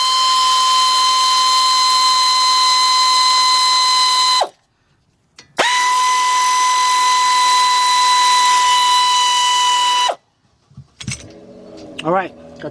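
Bolts removed from the front brake caliper of a 2007 Honda Accord with a power tool, two long steady high-pitched whirring runs of about four seconds each, loud and close, followed by brief clinks and rattling.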